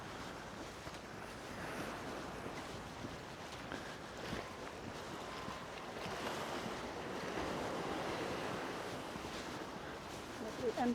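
Surf washing onto a wide, empty beach at Palmanova, Mallorca, in late November, a steady broadband wash with wind buffeting the microphone, continuous and fairly loud, with no speech.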